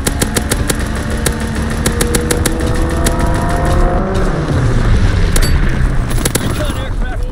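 Fighter aircraft making a strafing run in a video game: a loud, continuous engine roar with rumbling booms and falling, pitch-sliding tones as it sweeps past, plus sharp repeated cracks of fire.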